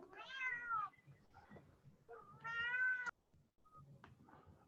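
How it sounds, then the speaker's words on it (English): A cat meows in the background of an online video call, several clear drawn-out meows a few seconds apart, fairly faint and distant, with no talk over them. "We can hear the cat, but we can't hear Bill."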